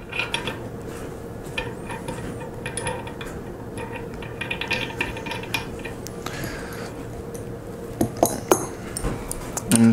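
Threaded locating pins being screwed into the holes of a Tosa Tool modular clamping set, heard as light metallic clinks, scrapes and rubbing taps at close range, with a few sharper clicks near the end.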